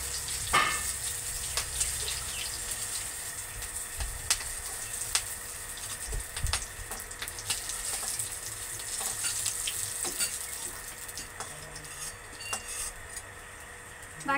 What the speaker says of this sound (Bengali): বাকি মাছগুলোকেও আমি ঠিক একই রকম ভাবে ভেজে নেব।